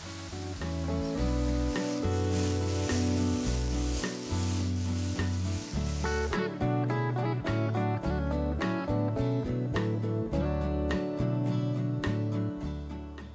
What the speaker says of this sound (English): Sauté the broccolini and mushrooms until you get some nice color.